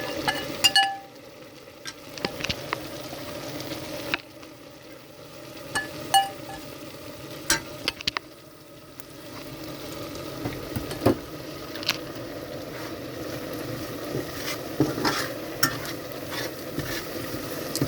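Flour for cube steak gravy is stirred in a pan, with a soft, steady sizzle under scattered sharp clinks and scrapes of a utensil against the metal.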